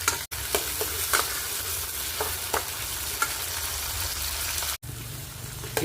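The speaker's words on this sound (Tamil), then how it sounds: "சின்ன வெங்காயத்தை நம்ம நல்லா வதக்கிப்போம்." Chopped shallots and small tomato pieces sizzle and fry steadily in hot oil for a Tamil fish curry, with a few stirring scrapes and a couple of brief gaps, close and fairly loud, no talking.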